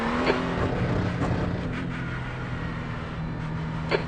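An Acura NSX GT3 race car idles and rumbles low in the pit lane of a racing video game at Thruxton Circuit, a steady engine drone with faint clicks running throughout.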